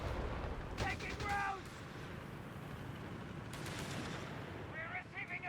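Panzerschreck anti-tank rockets fire amid battle in Company of Heroes 3, with muffled booms and rumbling explosions layered over a dense wartime din and brief bursts of speech.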